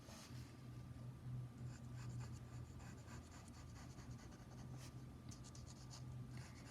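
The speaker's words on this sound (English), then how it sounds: "Now I'm drawing what I see in this whole panel" A pencil scratches across paper while sketching an upside-down horse, a soft, steady, faint scraping with small repeated strokes close by.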